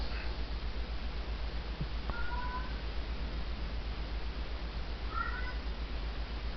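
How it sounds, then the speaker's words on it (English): A cat meows twice, a short call early on and another a few seconds later, fairly faint over a constant low electrical hum with no talking. "My cats are awfully lonely."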